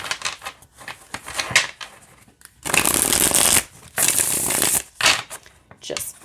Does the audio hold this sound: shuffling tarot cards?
yes